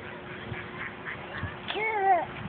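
Ducks quack close by outdoors: a few soft calls, then one louder, drawn-out quack near the end.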